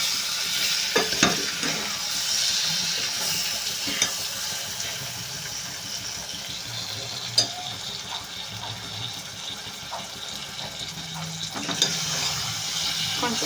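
Egg bhurji, Andhra style, fries in a pan while a spoon scrapes and stirs through it, giving repeated soft scraping strokes over a gentle, steady sizzle at close range.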